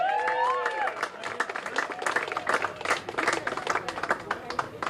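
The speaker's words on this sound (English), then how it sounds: "I want to make sure we get you the round of applause you deserve." Studio audience at a Big Texan 72 oz steak eating contest event in Pasadena claps and cheers, dense broadband applause with whoops running the whole time, a brief voice at the start over it.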